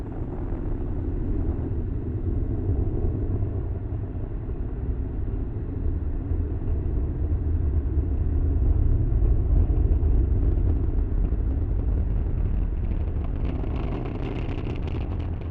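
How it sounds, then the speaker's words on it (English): A SpaceX Falcon 9 lifts off from Kennedy Space Center on a Starlink mission with a deep, continuous rumbling roar that holds steady, swells slightly and carries on without any voices. "Falcon 9 has successfully lifted off"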